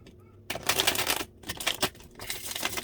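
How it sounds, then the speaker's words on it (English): A tarot card deck being shuffled up close gives bursts of rapid riffling and flapping, with brief pauses between them and no speech. "I'm gonna go ahead and shuffle."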